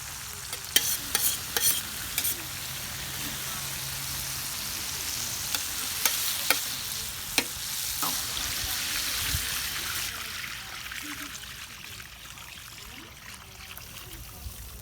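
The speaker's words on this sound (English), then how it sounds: "now that the paella is actually boiling to the highest point, look at those flames" Paella with tomato cooking in a pan over an open wood fire, a continuous bubbling sizzle with scattered sharp clicks and scrapes from stirring, gradually easing toward the end.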